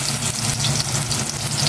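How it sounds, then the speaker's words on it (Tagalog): Steady, close sizzling of saba plantains frying in hot oil, a continuous crackling hiss throughout with no voices. "I-prito ko muna itong saging na saba"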